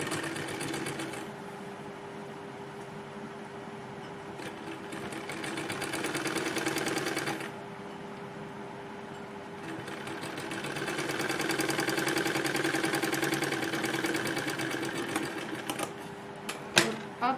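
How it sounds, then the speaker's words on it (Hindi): Sewing machine stitching the lining of a kurti; a close, steady mechanical whir running in long stretches, easing off briefly between runs, with a few handling clicks at the end. "इसको यहाँ पर रखेंगे और सिलाई लगाएंगे"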